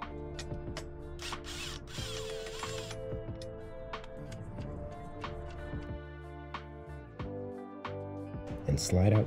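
Socket ratchet loosening three 12mm bolts on the high-pressure fuel pump cover of a direct-injection engine, with sharp clicks and metallic taps scattered through steady background hum and faint talk.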